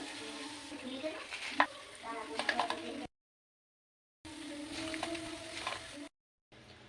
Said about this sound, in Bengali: এইভাবে আর কয়েকটা ব্যাচে আমি বাকি বড়াগুলো ভেজে নেব